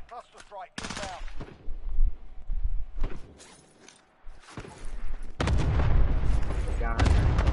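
Loud, dense bursts of automatic gunfire from a Call of Duty match fill the latter half, preceded by scattered shots and booms, with players talking over the action.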